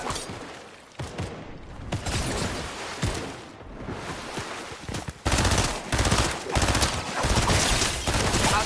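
Heavy automatic gunfire rattles in a video game, with loud sustained bursts and brief pauses between volleys, dense and close throughout.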